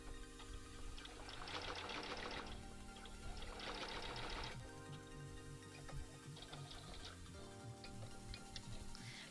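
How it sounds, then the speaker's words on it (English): A sewing machine back stitching in short, rapid bursts with brief pauses between them, its quiet mechanical ticking steady and close. "I'm back stitching to make sure that I've locked in my last stitches"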